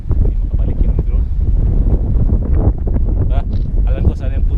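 Strong wind buffets the microphone near a waterfall in Africa, a loud, constant low roar and rumble with voices talking over it.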